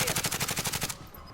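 Rapid automatic gunfire in the video game Call of Duty: Warzone, about a dozen evenly spaced loud shots in quick succession that stop abruptly, followed by a short quiet tail.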